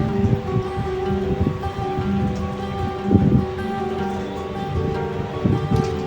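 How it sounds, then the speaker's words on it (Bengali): Heavy rain blows into a building, a dense steady rush of water with spattering drops and occasional louder gusts, continuous and close throughout. "বৃষ্টিটা অনেক আসছে"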